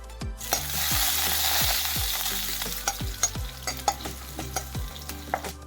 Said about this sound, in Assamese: একেখিনি তেলতে সৰিয়হ, খুন্দি ৰখা নহৰু, জলকীয়া দুটা দি ভাজি ল'ম